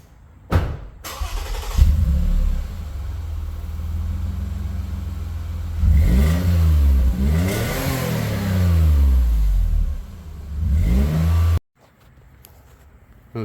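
A Toyota Highlander with a modified exhaust, resonator still fitted, starts up and idles, then revs up and down in several rising and falling sweeps before cutting off abruptly, heard close with no voices.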